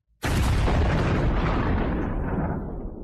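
A loud explosion sound effect hits suddenly after a brief silence, a deep booming blast with a long rumbling decay that slowly fades.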